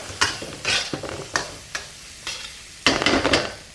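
Oil sizzling in bursts as carrots and food are stir-fried on high heat for Fujian seafood fried rice, with several sharp clattering stirs and a louder rush of sizzle near the end.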